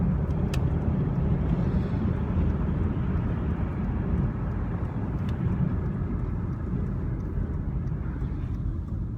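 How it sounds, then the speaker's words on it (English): Steady, loud low-frequency road and engine rumble from inside an Alfa Romeo 159 on a longer drive, continuous and even throughout with no talking. "We're in the 159, which is the car we usually take on the longer journeys."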